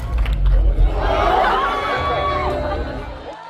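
Filmgoers at a screening of a film about martial law, many of them holding balloons, break into cheers and shouts, loud and close, that fade over a few seconds.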